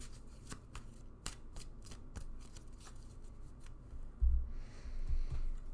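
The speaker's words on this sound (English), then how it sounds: "let me shuffle first" A deck of tarot cards is shuffled by hand at close range, with a series of quick riffling snaps and soft slides followed by a few thumps and rustles as the cards are handled; quiet and without talk.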